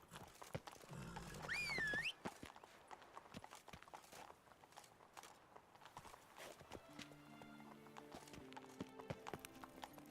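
Horse hooves clip-clop in a steady walking rhythm in The Witcher video game. A short whinny sounds early on, and soft background music comes in later under the hoofbeats.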